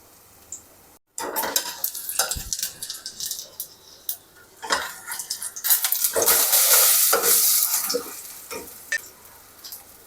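Food frying in a pan, a steady close sizzle with spatula scrapes and clinks of metal, swelling louder midway, with no talk.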